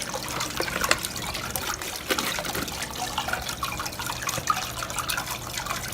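A foam jet fountain sprays water in a small patio pond, a steady broadband splashing and trickling wash with a few brief louder spurts, close by and continuous.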